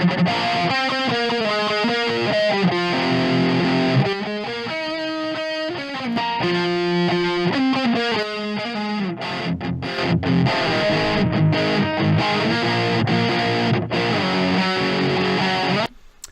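A distorted electric guitar plays through two mixed cabinet-simulator mics set at different positions, giving a thick, saturated tone. Sustained chords and riffs continue for about sixteen seconds, then stop abruptly.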